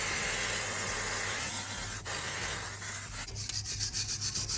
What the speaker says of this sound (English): we can give this a quick clean with a wire brush and some brake fluid cleaner